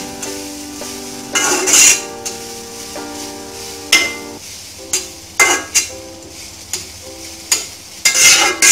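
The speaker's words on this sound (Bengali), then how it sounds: "এবার আমি নারকেলটা দিয়ে দিচ্ছি। নারকেলটা একটু ভাজা ভাজা হয়ে আসলে আমরা ছানাটা দিয়ে দিব।" Grated coconut stirred and fried in a pan, with a utensil scraping and clinking against the metal in several separate bursts over a low sizzle, close and fairly loud.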